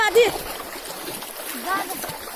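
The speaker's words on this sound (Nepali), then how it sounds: "यो सानो खोला हो" Water of a small stream splashing and rushing close by, a steady wash of noise with voices talking over it.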